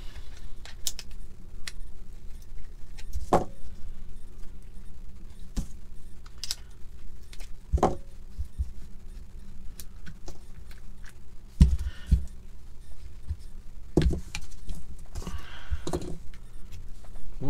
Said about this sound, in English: First things first, whip the handle off.